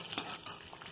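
Mustard-style tempering seeds and chillies hit hot oil for coriander rice, giving a short burst of close, steady sizzling with a quick stir.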